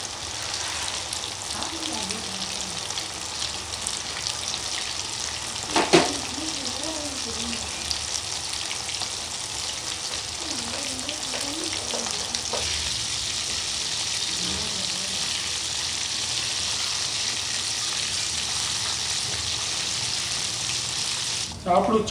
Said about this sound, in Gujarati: આપણે चिकन ने बराबर फ्राय કરી લઈશું।